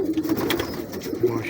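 Performer pigeons give a brief, soft cooing call close by against a faint background hum.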